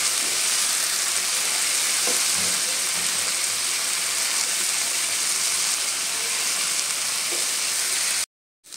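Vegetables stir-fry in a pan before salt and turmeric go in, giving a loud, steady sizzling hiss with faint stirring knocks throughout, then the sound cuts off abruptly near the end.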